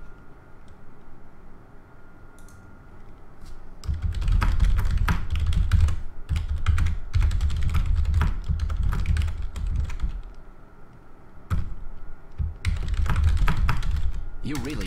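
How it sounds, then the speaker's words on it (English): Rapid clicking of computer keyboard keys during a game-of-throws session, loud bursts of typing in clusters with brief pauses, close to the microphone. "Sorry for the typing noises."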